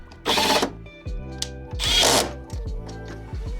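Power drill driving fasteners while fender liners are fitted beneath a BMW, two loud bursts of whirring followed by softer clicks and knocks of plastic and hardware handling.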